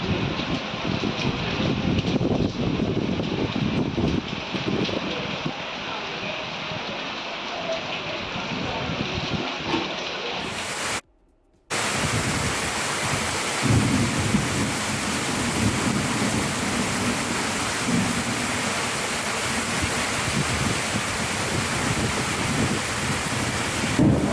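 Steady heavy monsoon rain pours down with low rumbling thunder, broken by a brief silent gap midway before the downpour resumes.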